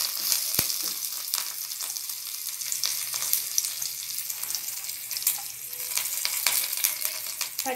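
Cumin seeds, curry leaves and fresh coriander crackle and sizzle in hot oil for a South Indian pachi pulusu tempering, a steady close hiss with scattered sharp pops and a faint clink, no talk.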